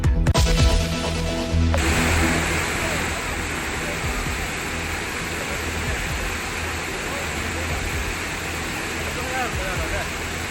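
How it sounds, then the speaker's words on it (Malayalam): Floodwater roars down the overflowing Olipuzha river at Karuvarakundu in Malappuram during a heavy rain surge. A loud burst at the start settles into a steady, dense, close rushing roar throughout. "മലപ്പുറം കരുവാരക്കുണ്ടിൽ മഴവെള്ളപ്പാച്ചിൽ. ഒലിപ്പുഴ നിറഞ്ഞൊഴുകുന്നു."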